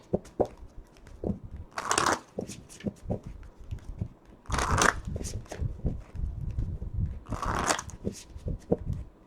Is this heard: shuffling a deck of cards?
yes